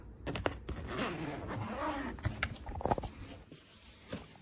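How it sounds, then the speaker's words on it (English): Zipper being pulled along a Samsonite Freeform hard-shell luggage case, several quick close rasping zips with small clicks and handling noises, fairly quiet. "Zippers work really well."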